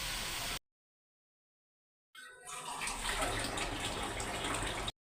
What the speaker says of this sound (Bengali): অল্প একটু ঝোল দিয়ে দিলাম